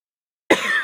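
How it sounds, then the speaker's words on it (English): A single short cough from a gamer during a live stream, close and abrupt after a moment of silence, with a second small burst at the end. "the cough. The cough of doom"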